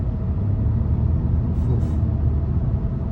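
Engine and road rumble from a 2022 Honda Insight Touring hybrid accelerating at half throttle, a steady low droning hum with tire noise that holds constant and loud, with no voices.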